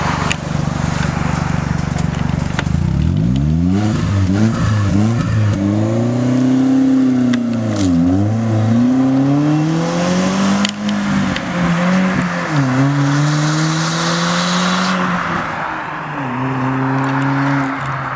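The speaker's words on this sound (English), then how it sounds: "Nathan, take it for a rip real quick." A Genesis car with its muffler deleted, leaving a small gap in an exhaust pipe, revs hard in repeated rising and falling sweeps, loud and close, a raw raspy exhaust note climbing and dropping several times.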